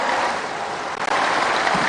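A studio audience at a live Indonesian evening news program breaks into loud, sustained applause, a dense continuous wash of many hands clapping for the whole stretch.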